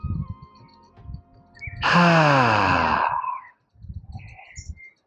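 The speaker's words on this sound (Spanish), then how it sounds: "Y tomamos una respiración profunda." A deep breath is exhaled during a calming exercise meant to ease anxiety and stress: one long, loud, close voiced sigh lasting under two seconds, with faint rustling before and after.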